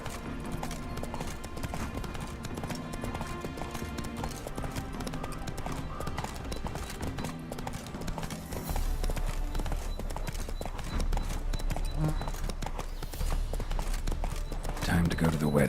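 Roach, a horse in The Witcher 3, gallops with rapid, rhythmic clip-clop hoofbeats over a game soundtrack, growing heavier and louder partway through while a voice speaks over it.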